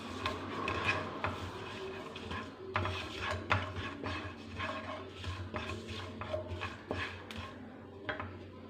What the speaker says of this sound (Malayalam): ഇനി നമുക്ക് ഇതൊന്ന് ഇളക്കാം